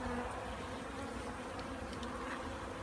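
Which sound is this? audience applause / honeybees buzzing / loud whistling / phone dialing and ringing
honeybees buzzing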